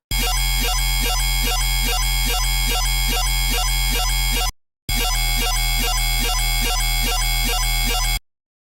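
A Phase Plant synth preset named Multitasking plays alone: a dense, buzzy electronic pattern with a steady, rapid rhythmic pulse. It stops briefly partway through, then resumes, loud and close throughout.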